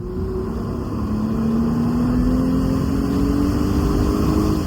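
Mercedes W209 CLK coupe engine revving, a loud steady drone that climbs gradually in pitch as the revs build, with no talk over it.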